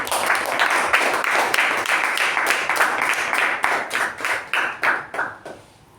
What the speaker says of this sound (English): please welcome with a huge round of applause this one, Sakshi